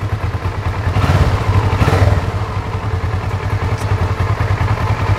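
Motorcycles of the kind often seen on the street run steadily nearby, a continuous mid-pitched engine rumble with a slight surge around the middle and light clattering throughout, no voices over it.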